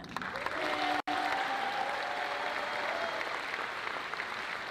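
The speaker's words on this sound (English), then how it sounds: "So can you wave, and we'll give you a big round of applause." Steady applause from an audience at a high school choral concert, a continuous wash of clapping that breaks off for an instant and then carries on evenly.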